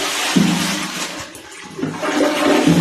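A toilet flushes nearby in a short, loud rush of water that dips briefly and then surges again.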